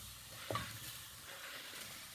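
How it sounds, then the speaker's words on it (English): Thinly sliced pears go into a pan of thinly sliced quince on a gas hob, giving a soft, steady sizzle and hiss with a brief clatter as they drop in. "now I'm just adding the very thinly sliced pears"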